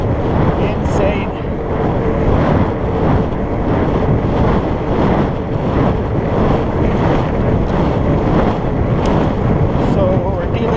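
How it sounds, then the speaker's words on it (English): Strong west wind during a morning fat bike ride on a Surly Moonlander, heard as loud continuous wind buffeting and roaring across the microphone, close and unbroken for the whole stretch. "we're dealing actually with pretty strong wind this morning coming out from the west"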